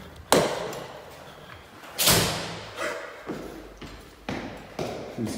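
A door at a police station being pushed shut repeatedly, giving a series of close, heavy slams and thuds at irregular intervals, the first two loudest, with faint background voices.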